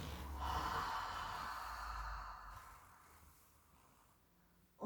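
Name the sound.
exhaling breath during a Pilates exercise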